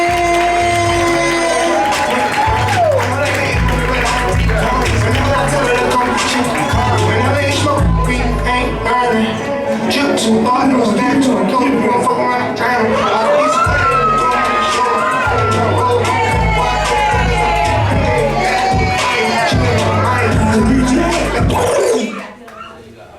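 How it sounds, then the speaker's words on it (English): A live comedy show crowd in White Plains, Maryland, cheers and hollers loudly and continuously for a comedian, with whoops and shouts over steady music, before the noise drops off sharply at the end. "I want y'all to start clapping right now."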